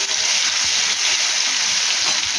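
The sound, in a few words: ingredients added to hot oil with black cumin, sizzling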